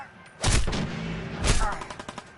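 Gunfire rings out in the video game Fallout 4, two loud, heavy blasts about a second apart, each trailing into a rumbling tail, followed by a few fainter pops.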